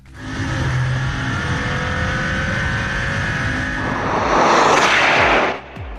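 Bugatti Chiron sports car with its engine accelerating, a loud continuous roar that builds into a brighter rushing surge near the end before cutting off abruptly, with no talk.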